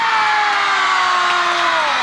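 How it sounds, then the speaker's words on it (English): Crowd of schoolchildren roaring together outdoors at a bike-to-school rally, a single sustained loud shout of many voices lasting about two seconds. "let's give a roar so loud that we can hear it across this whole country"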